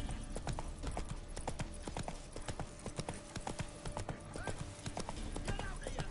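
Roach the horse gallops in The Witcher 3 video game, with rapid, steady clip-clop hoofbeats running throughout under a layer of game ambience.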